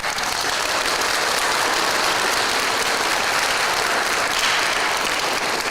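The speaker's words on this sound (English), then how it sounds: "So let's give them another round of applause." Loud, sustained audience applause at a spring school band concert, a dense wash of clapping filling the room steadily from start to finish with no voices on top.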